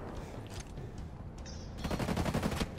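Rapid gunfire from the video game Ghost Recon Breakpoint, a dense burst of repeated shots growing louder in the second half over a steady background of game ambience.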